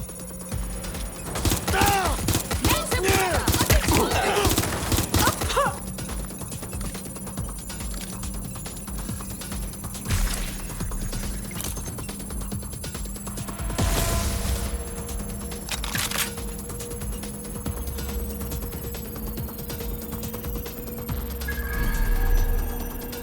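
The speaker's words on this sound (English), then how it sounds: "I'm taking fire!" Bursts of gunfire from the video game Watch Dogs: Legion on PS5 rattle in rapid clusters early on, then fewer scattered shots follow amid a steady tonal hum and other game sounds.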